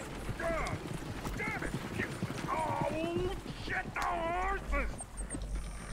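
Horse hooves clop steadily while a horse whinnies in Red Dead Redemption 2 gameplay, with people talking over the sounds.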